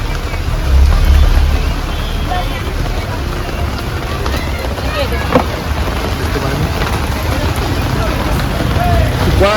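A dense, steady hiss of rain pours over a busy outdoor vegetable market, with voices chattering faintly underneath throughout.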